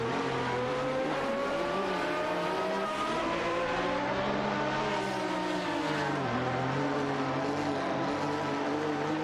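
Racing game cars, a Porsche 911 GT2 and a Ferrari 550 GT, battling for seventh place: continuous loud engine roar with rising and falling revs as gears shift, steady and close throughout, no voices.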